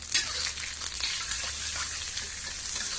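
Blended minced garlic sizzling in hot oil in a pan, a steady close crackle and hiss throughout with faint stirring.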